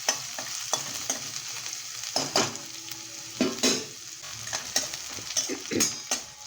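Chopped onion sautéing with garlic in a pan for a horse gram curry, a steady close sizzle broken by repeated scraping stir strokes at an uneven rhythm.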